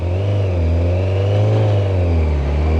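A Kawasaki ZZR 1100 motorcycle engine runs loud and close, its drone rising and falling as it revs in a smooth, continuous swell.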